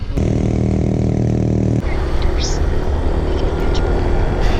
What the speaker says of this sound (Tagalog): Takbuhin ko muna yung motor ko.